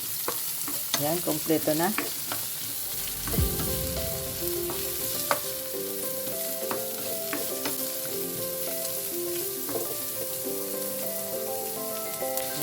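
Carrot being stir-fried in a single pan for a new-style pancit canton, a steady close sizzle with clinks and scrapes of stirring that settles into an even frying hiss, with brief talk near the end.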